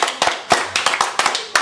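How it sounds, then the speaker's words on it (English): Sparse, sharp handclaps from a small audience at a fan film festival premiere, close and uneven, about a dozen separate claps spread across a brief moment. "One more round of applause."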